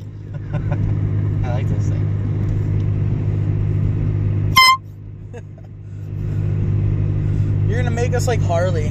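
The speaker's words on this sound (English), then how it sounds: "You think that's how it happened to him? Just an air horn?" One short, sharp air horn blast cuts through the steady rumble of a car interior, and faint voices follow near the end.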